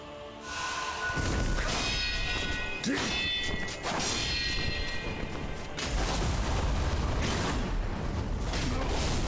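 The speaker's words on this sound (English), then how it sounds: "I keep forgetting about the explosion." A loud explosion in the video game Sekiro: Shadows Die Twice booms and crashes, followed by sustained rumbling debris and clattering impacts filling the scene for several seconds.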